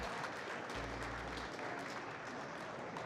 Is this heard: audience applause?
yes